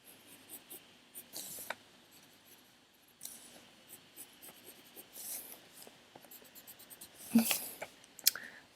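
Colored pencil scratches across paper up close, in short irregular strokes and scribbles with quiet pauses between them.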